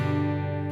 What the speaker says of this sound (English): So what that allows me to do is that I can make my guitar sound like this.